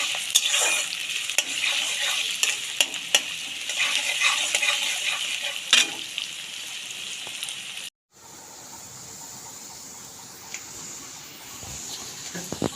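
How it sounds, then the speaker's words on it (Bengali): Onion frying in a hot kadai sizzles and crackles loudly with stirring scrapes for several seconds, then a brief cut and a quieter, steadier fry continues close by. "পেঁয়াজটা ভাজা ভাজা করে নেব।"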